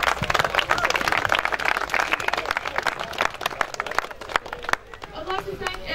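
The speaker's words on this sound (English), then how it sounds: "So big round of applause for both teams," Crowd applause and clapping for two junior under-15 football teams after a grand final, a dense, sustained patter of many hands that thins toward the end, with some crowd chatter mixed in.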